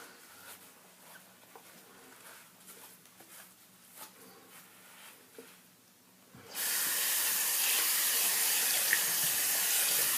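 Water from a bathroom sink tap runs during face rinsing, faint handling and splashes at first, then the tap opens into a loud, steady hissing rush that continues to the end, close and without talk.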